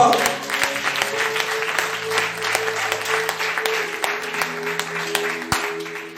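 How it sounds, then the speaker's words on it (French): Church congregation at a Pentecost service applauding loudly and continuously, a dense crackle of many hands close by, with sustained organ or keyboard chords underneath. "On acclame Jésus très fort."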